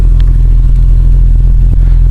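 A 1989 BMW 320i M-Technic E30 with a sporty aftermarket-style exhaust idling and revving, a loud, close, steady low rumble that holds throughout with slight swells and a brief clatter near the end.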